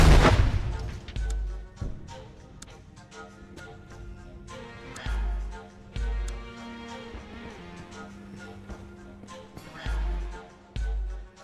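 In the tactical shooter Door Kickers 2, loud gunshots and a heavy grenade blast ring out with deep booms and sharp cracks, repeating in irregular bursts over game sound.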